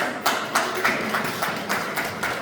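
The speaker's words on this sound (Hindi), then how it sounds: "तालियां हो जाए बड़े।" Parents at a Kidzee preschool orientation program in Sagar clap in a light, sparse rhythm, about eight soft claps spread evenly across the moment, fairly quiet in a room.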